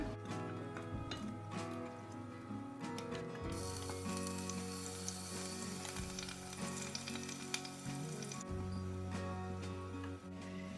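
Chopped tomatoes sizzling and frying in a pan, a steady crackling hiss with occasional clicks and scrapes of stirring, no talking.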